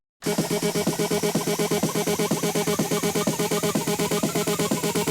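Loud electronic dance music plays continuously, two tracks blended into a dense mix over a driving, steady pulsing beat.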